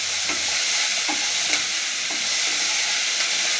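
Grated coconut being stirred in a hot pan, with a steady frying sizzle and soft scraping strokes of the spoon recurring every half second or so, close and continuous without any talk.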